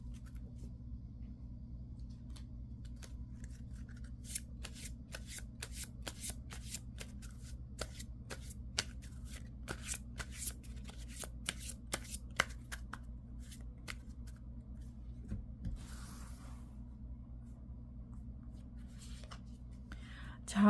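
Tarot cards shuffled by hand for a love and relationship reading, giving a long run of crisp, rapid riffling bursts over a steady low hum, with a brief rustle near the end.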